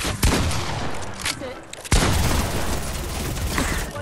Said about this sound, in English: That's a minigun.